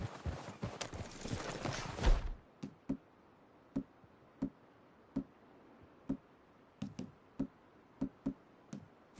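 After a noisy rush, horse hooves in Red Dead Redemption 2 slow to sparse, spaced single clops, quiet and irregular as the horses walk and stop.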